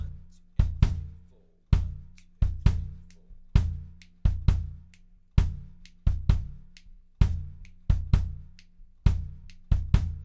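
A drum kit playing a repeating quasi-Latin jazz independence pattern, with bass drum on beat 1, the and of 2 and beat 3, plus cross stick, floor tom and hi-hat; sharp, evenly spaced close hits alone for about ten seconds.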